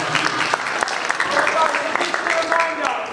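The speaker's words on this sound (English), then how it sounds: "round of applause for the lads as well" Audience applause after a live talk, a dense steady wash of many hands clapping close by, with voices mixed in underneath.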